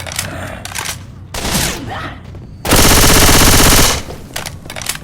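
Gunfire from a zombie shooter video game: bursts of automatic fire, with a sustained, dense volley of rapid shots in the middle, surrounded by quieter game effects and clatter.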